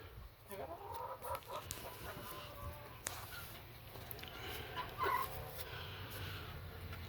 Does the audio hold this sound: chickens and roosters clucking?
yes